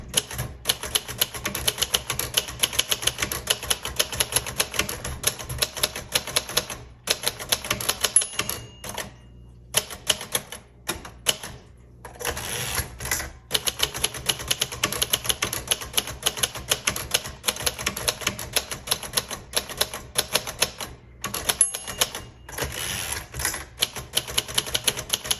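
Rapid keystrokes on a 1964 Royal Safari typewriter, clattering in dense bursts with short pauses and occasional carriage sounds, close and alone.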